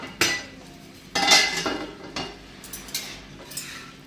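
A metal spatula scrapes and taps against a hot pan while a dosa is flipped: several sharp, close scrapes and clinks with a faint sizzle beneath.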